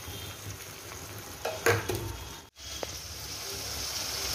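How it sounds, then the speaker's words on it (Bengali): Spice paste sizzling and frying with onions in a pan, a steady soft sizzle broken by a few clinks and scrapes of a spoon against the pan. "এবার আমি পেস্টটা দিয়ে দেবো। দিয়ে আমি এটাকে খুব সুন্দর করে কষিয়ে নিই।"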